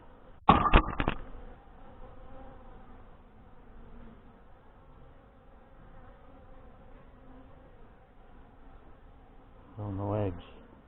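Honey bees from an open hive of Saskatraz stock hum during an inspection, a soft steady buzz under the scene, with a few sharp handling knocks at the start and a short voice near the end.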